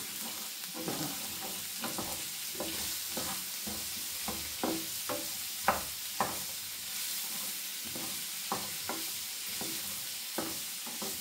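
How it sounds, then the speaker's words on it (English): Vegetables frying in a pan with a steady broadband sizzle, punctuated by scattered clicks and scrapes of stirring, close up with no talking. "Whilst the vegetables are cooking on the frying pan"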